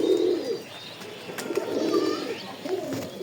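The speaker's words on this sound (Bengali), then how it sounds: "দেখেন ছয়তলার এই সাইডে একটা কবুতর বসেছে আর ওই সাইডে একটা কোনাতে" A pigeon perched on the corner of a six-storey building coos in repeated low, soft phrases close by.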